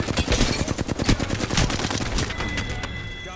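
Rapid bursts of automatic gunfire in a video game shooter, dense and close, crackling continuously for a few seconds before thinning into a lighter background clatter.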